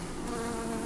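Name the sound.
honeybees buzzing in an opened hive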